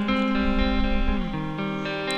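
An electric guitar plays through a clean tube amp with a cab sim impulse response, a sustained chord ringing full and bright before the notes shift.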